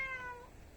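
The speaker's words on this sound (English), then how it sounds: "You can probably hear it in the background." A cat meows faintly in the background on a cold day, a short tonal cry with a few harmonics that fades over under a second; no one speaks.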